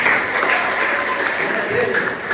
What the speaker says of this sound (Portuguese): Você pode dar uma forte salva de palmas?